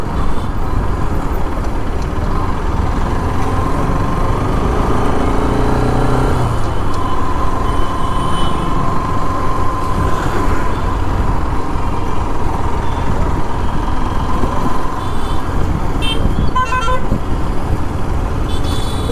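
Loud midday road traffic in a busy Indian town: a continuous wash of car and truck engines, with scattered horn toots rising above the din throughout.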